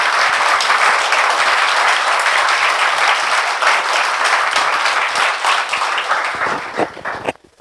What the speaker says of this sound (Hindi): एक बार दोनों हाथ ऊपर करके जोरदार ताली बजा दीजिएगा